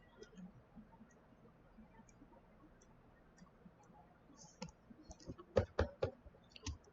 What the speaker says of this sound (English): So I'm clicking and dragging